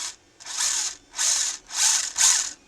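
Noisy, loud gears and differential of an Eachine EAT15 RC rally car whir in three short, harsh bursts separated by brief pauses. No one speaks.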